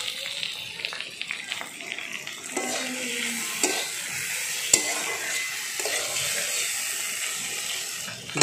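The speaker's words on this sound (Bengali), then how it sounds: "ভালো করে নাড়া হয়ে গেছে।" Rohu fish frying in an iron wok for a bitter gourd and eggplant curry, a continuous close sizzle with repeated scraping and stirring strokes and one sharp knock of the spatula.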